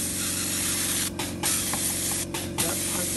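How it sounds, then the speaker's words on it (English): Airbrush spraying paint onto a plastic part of a 1/48 Revell F-102A model: a close, steady hiss with brief breaks between short bursts, and no talk. "I started to paint with my airbrush."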